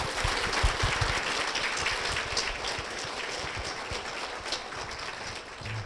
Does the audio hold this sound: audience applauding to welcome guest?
yes